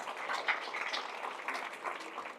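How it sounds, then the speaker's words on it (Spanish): A church congregation applauds for a couple of seconds, a dense, fairly faint wash of many hands clapping together with no clear speech on top. "Fuertes aplausos a nuestro Dios."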